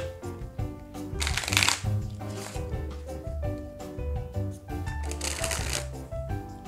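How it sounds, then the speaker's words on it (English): A deck of playing cards is shuffled up close in two quick riffling bursts with soft handling between them, while people talk quietly underneath. "I'm gonna give it a shuffle just to make sure that they're mixed up properly"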